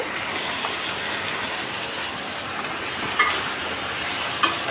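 Snake gourd frying in a pan gives a steady, close sizzling hiss, with a couple of soft clicks as a utensil stirs it; no voices.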